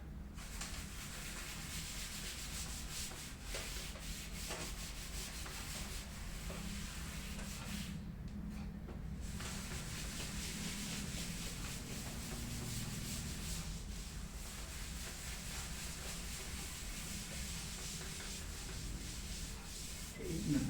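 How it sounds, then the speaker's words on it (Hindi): Someone wipes a whiteboard clean in a classroom lesson with a continuous, loud scrubbing hiss. It carries on steadily for about twenty seconds, with only a brief easing around the middle. "सो मैं इसको रब कर देता हूँ बेटा, ठीक है जी, थोड़ा सा प्रॉपरली इसको रब करते हैं।"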